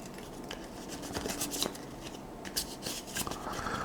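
Valley of the Kings card game cards shuffled up close, a few crisp riffling bursts with soft flutters between them, no talking.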